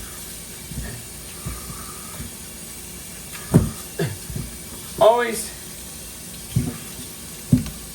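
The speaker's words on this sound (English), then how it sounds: "Let's rinse it some more." Running tap water hisses steadily into a sink while raw chicken is rinsed, with short splashy bursts and clatter as the meat is handled, under intermittent speech from a nearby person.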